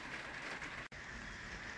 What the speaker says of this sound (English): it is pouring with rain this morning